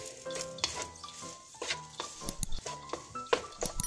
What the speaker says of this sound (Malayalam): അതിലേക്ക് നമ്മൾ വേവിച്ച് വെച്ചിരിക്കുന്ന ചോറ് കുറച്ച് ചോറും ഇട്ട് നല്ലതുപോലെ ഇങ്ങനെ ഇളക്കുക